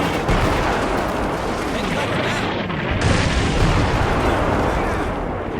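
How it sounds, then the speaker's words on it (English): Artillery guns fire in Combat Mission Normandy, a World War II strategy game set at Abbaye d'Authie with Canadians against Germans: loud, dense booms and rumbling blasts overlap in a continuous barrage, close and heavy throughout. "All this artillery on this side."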